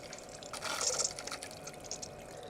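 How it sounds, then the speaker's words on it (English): Water running across the black mat of a Black Magic Mini Magic Pro miller table, a soft steady trickle and splash with a brief brighter spray in the middle, close and fairly quiet. "that means that the water will flow completely over the black mat"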